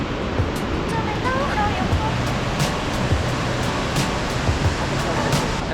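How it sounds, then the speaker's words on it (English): Norway's largest waterfall at Eidfjord, a broad steady rush of falling water like loud pink noise, continuous and close, with scattered faint clicks over the roar. "Ok, a maior cachoeira da Noruega."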